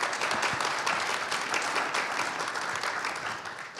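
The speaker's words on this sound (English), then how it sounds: "Please give our panelists a quick round of applause." Audience at a health-care panel event giving the panelists a brief round of clapping, moderately loud and dense, gradually tapering near the end.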